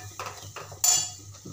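A spoon scrapes and clinks in a pan while red chili powder, turmeric, coriander powder and salt are mixed in, giving a few short close metallic strokes with quiet pauses between.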